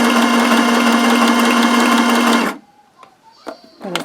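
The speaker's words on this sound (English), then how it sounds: "I'm going to turn the corner with a straight stitch again" A sewing machine runs steadily, stitching fabric baby book pages with a straight stitch, its loud even whir holding for about two and a half seconds before cutting off and leaving faint handling clicks.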